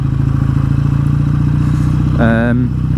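A BSA A10 650 Super Rocket motorcycle engine idles close by with a loud, steady thumping beat while its idle is being adjusted during a carburettor tune-up, and a short tonal squeal rises near the end.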